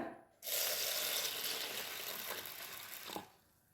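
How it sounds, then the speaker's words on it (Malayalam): Water gushes from a tap onto urad dal in a bowl for soaking, a steady close rushing stream that starts abruptly and tapers off near the end. "എന്നിട്ട് നല്ലോണം വെള്ളം ഒഴിച്ച് കുതിർത്തിയെടുക്കുക"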